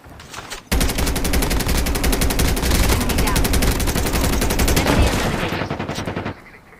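Gunfire in Call of Duty Mobile Battle Royale rattles out as a loud, rapid, sustained burst of shots lasting several seconds, with a faint voice in the background.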